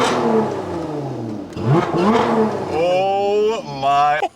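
Car engine revving hard after starting, a loud rising and falling whine with sharp throttle blips, partly overlapped by excited voices reacting.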